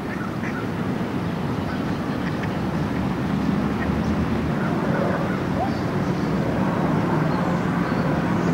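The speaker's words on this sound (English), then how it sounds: "Just another duck." Near a pond with swan boats, a duck quacks in a park, faint calls mixed into a constant wash of outdoor noise.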